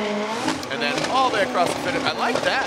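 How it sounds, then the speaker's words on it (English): Drift car at a Formula Drift Pro knockout qualifying round in Seattle, engine revving and whining in rising, wavering pitches with tire noise, under an excited commentator talking throughout. "the car was revving more the longer he went through the zone"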